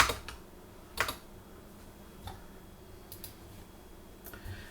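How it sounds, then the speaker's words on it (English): Typing on a computer keyboard: a few sparse, close keystroke clicks with quiet gaps between them, soft and isolated with no one talking. "let's just launch a browser of your choice and type in VirtualBox"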